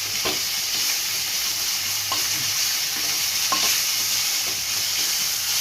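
Ginger and garlic fry with golden-brown onions in a pan for a watermelon-rind curry. An even, dense sizzle continues throughout, with occasional soft stirring taps, close up and without speech.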